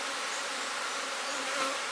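Agitated honeybees swarm at the hive, their close, dense buzzing forming a steady, unbroken drone with a slight swell near the end.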